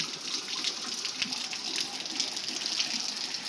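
Floodwater being bailed by bucket from a rain-flooded house on Railway Station Road, Milan Park, Wankaner: a steady, soft rush and splash of water continues throughout, fairly faint and unbroken.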